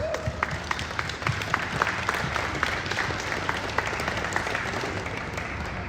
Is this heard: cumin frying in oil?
no